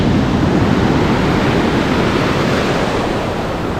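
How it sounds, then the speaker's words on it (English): Pacific surf washes over a rocky shore at Rialto Beach, a loud, steady roar of breaking waves with rocks tumbling in the backwash, alone and close throughout. "you get that same sound of the tumbling rocks"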